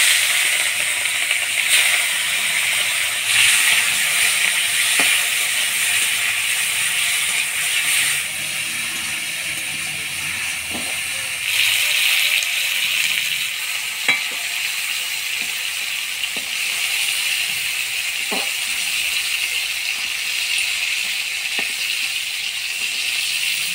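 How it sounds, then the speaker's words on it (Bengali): Prawns frying in a pan make a continuous hissing sizzle at moderate level, with occasional faint taps and clinks of utensils against the pan. "ততক্ষণ আমি চিংড়ি মাছগুলো ভাজে নেব"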